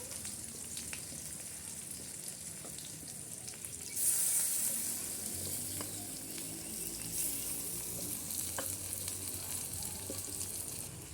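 Katla fish pieces with eggplant frying in oil in a kadai, giving a steady, close sizzle that swells louder partway through and then holds as a dense, crackling hiss.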